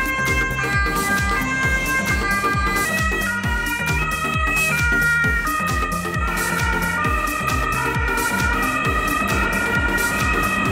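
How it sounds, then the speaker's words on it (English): An ambulance siren wails continuously, its alternating tones cycling rapidly and loudly throughout, with no voices present. "Ambulances are vehicles used in the medical industry to transport patients to treatment facilities"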